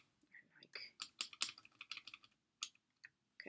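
Computer keyboard keys click in a quick, irregular run of taps, close and crisp, with brief pauses between presses and faint whispered speech underneath.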